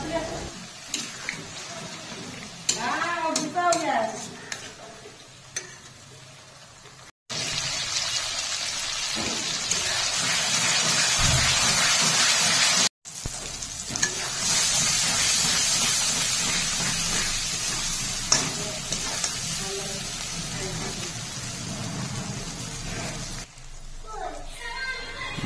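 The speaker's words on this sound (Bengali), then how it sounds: "হালকা জল দিয়ে মশলা ভালো করে কষিয়ে নেব।" Spices for a crab curry sizzle loudly in a pan after a splash of water, a steady frying hiss with brief pauses while being stirred, and a voice speaks at the start and near the end.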